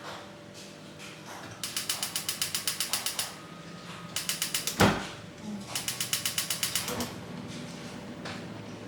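A gas stove being lit: three bursts of rapid, evenly spaced igniter clicks, each lasting about a second, close and clear, with a dull knock between the second and third bursts.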